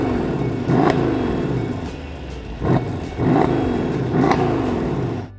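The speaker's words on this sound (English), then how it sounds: "This is a typical AMG V8" A 2013 Mercedes CLS 63 AMG C218 with its V8 revs hard, a loud, deep roaring burble that surges and falls in three or four close blips, with no talking.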